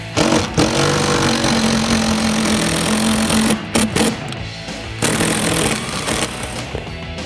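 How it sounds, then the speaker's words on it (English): A power drill drives a self-tapping screw into a bracket for an underseat storage box on a 2015-2018 Ford F150, producing a loud, continuous buzzing whir with brief stops and restarts near the end. "we're going to run this self-tapper in to create threads"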